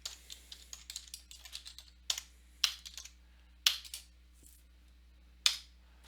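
Quick, irregular clicks of a computer keyboard being typed on while entering a place name into a real estate search page, crisp and close, with a few louder, sharper key strikes standing out from the light tapping.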